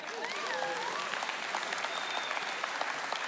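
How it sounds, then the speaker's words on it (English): Church congregation claps for a helper during a sermon, giving a dense, steady round of applause with a voice briefly heard at the start. "who just did 85 slides for me, a round of applause?"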